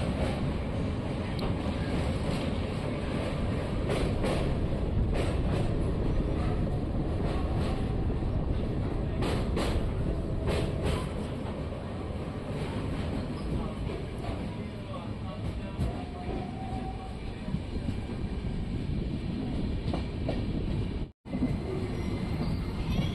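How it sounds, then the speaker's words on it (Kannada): A train rolls into Sedam railway station with a steady, loud rumble of wheels and carriage noise throughout, broken by a brief dropout near the end. "ನಮ್ಮ ಟ್ರೈನ್ ಈಗ ಸೇಡಂ ರೈಲ್ವೆ ಸ್ಟೇಷನ್ ಎಂಟ್ರಿ ಆಗಿದೆ."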